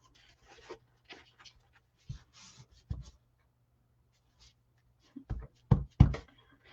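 Soft dabbing and pressing of a paper towel on wet watercolor paint, a few brief muffled pats and rustles close by, with a louder cluster of blots near the end.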